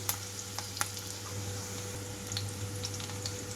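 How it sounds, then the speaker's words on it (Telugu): Onions and green chillies fry in a pan with a steady, soft sizzle, and a few faint clicks and scrapes sound through it; no one speaks. "రెండు నిమిషాలు ఉల్లిపాయలు వేయించుకుంటున్నాను"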